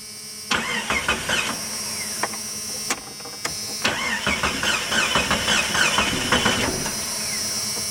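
A 1996 Jeep Cherokee that leaks gas and has faulty injectors cranks in a rapid rhythmic chugging. It stops, tries again, then churns on for several seconds and catches, heard close and fairly loud.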